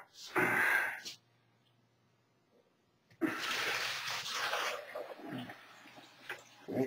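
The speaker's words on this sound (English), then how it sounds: "And then we'll pour this out." Liquid pours out in a short splashing burst, stops for a couple of seconds, then a longer, steady pour follows and tapers off near the end.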